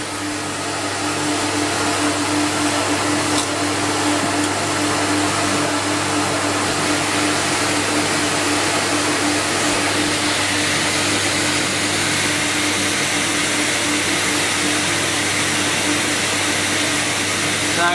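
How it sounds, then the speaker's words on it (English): A CamVac CGV286 workshop dust extractor runs with both motors on alongside a vacuum pump, giving a loud, steady, unbroken roar with a constant low hum throughout. "Going to turn the second motor on now on the CamVac."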